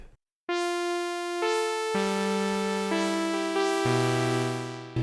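A smooth, harmonically rich synthesizer lead holds a few long notes in sequence, each swelling in, with no other sounds.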